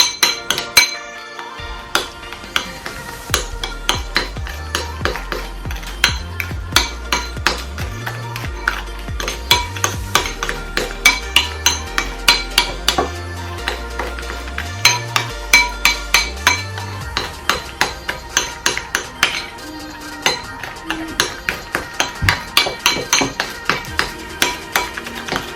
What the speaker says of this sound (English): So the next I'm gonna add is salt. Mix everything together.